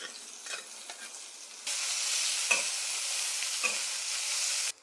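Bitter gourd dropped into a pan of hot oil, a quiet sizzle that suddenly jumps to a loud, steady hiss and holds, with a couple of brief stirring scrapes, before cutting off.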